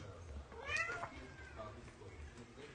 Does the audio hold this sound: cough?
no